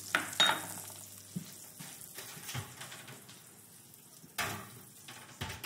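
Chicken sears in melting butter in a frying pan, a steady close sizzle with crackling bursts and a few louder spits and stirring clatters, no talking.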